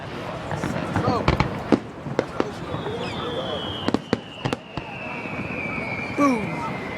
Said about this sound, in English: I used to be scared of fireworks.